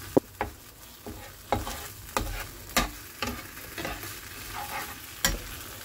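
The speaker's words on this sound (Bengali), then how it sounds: "রান্না হয়ে গেল কচুর শাক।" Taro leaves, kochu shak, stir-frying in a pan, with a soft steady sizzle under repeated scraping knocks of a spatula against the pan, coming at irregular intervals close by.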